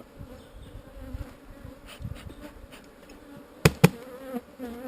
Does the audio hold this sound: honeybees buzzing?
yes